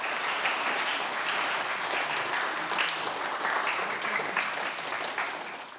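Young athletes from a sports club clap steadily as officials arrive, producing a sustained patter of many hands that stays fairly even and moderately distant throughout the short stretch.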